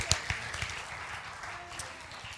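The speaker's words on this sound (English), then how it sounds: "Let's give the Lord a hand clap offering." A church congregation gives a round of hand claps, a few sharp claps up front fading into a softer patter of applause.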